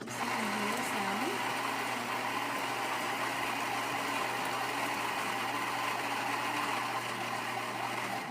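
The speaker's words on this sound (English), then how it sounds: "it's grinding the beans and making the coffee" A Gaggia Babila espresso machine grinds beans and brews a shot, giving a steady, whirring mechanical drone that holds at an even level from start to finish, fairly quiet and close.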